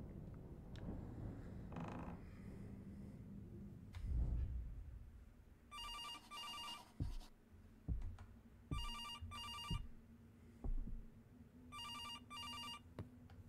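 A telephone rings in a video game apartment in repeated paired electronic bursts, three rings spaced a few seconds apart, quiet under scattered footsteps and thuds.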